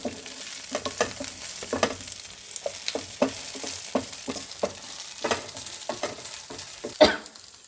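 Green chilies fry in oil with a steady close sizzle, broken by repeated scraping stirs of a spoon in the pan and a louder clatter near the end.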